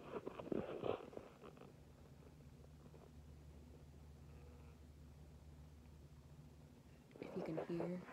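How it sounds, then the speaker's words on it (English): A soft, low rumbling purr from a toy cat runs steadily and quietly, with brief whispery voices at the start and end. "She purrs when she sleeps."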